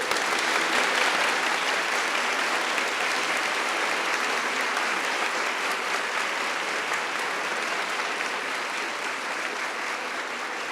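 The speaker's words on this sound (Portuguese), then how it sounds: "Agora a gente aplaude." An audience at a talk by Monja Coen at the Fliaraxá 2018 literary festival claps in sustained, dense applause that stays loud and even for about ten seconds, easing slightly toward the end.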